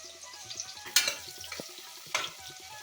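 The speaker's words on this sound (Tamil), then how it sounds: "இப்போது வெங்காயத்தை சேர்த்துட்டு நல்லா பொன்னிறமாக ஆகிற வரைக்கும் நம்ம நல்லா ஃப்ரை பண்ணிக்கலாம்" Onions sizzle softly in ghee for Mughal-style chicken biryani, with a low crackle and two sharper bursts of frying hiss as the pan is stirred, no voices.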